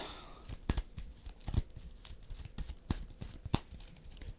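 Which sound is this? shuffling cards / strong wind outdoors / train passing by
shuffling cards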